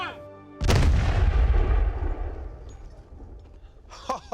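A cannon loaded with period-accurate cannonball ammunition fires with one loud, deep boom that rumbles and fades over several seconds, followed by faint voices.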